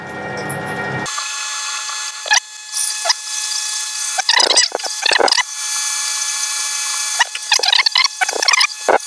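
A drill bores engine cylinders, cutting only on the tips of its flutes, with intermittent bursts of whirring and grinding separated by short near-silent gaps, close and fairly loud.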